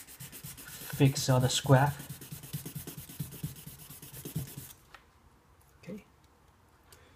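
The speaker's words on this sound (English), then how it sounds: "Put on the number 1000 sandpaper and starting to" Steady, rhythmic rubbing as a Tamiya Mini 4WD part is sanded with 1000-grit sandpaper, with someone talking over the first half before the scraping fades to a few faint strokes.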